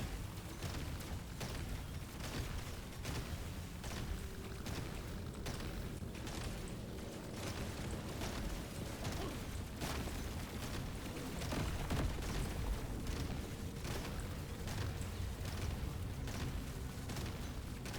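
Dense game combat din from Deep Rock Galactic: Survivor as cryo grenades go off among bug swarms: a steady, loud wash of rapid bursts, impacts and mechanical clatter with no talk, broken by repeated sharp cracks.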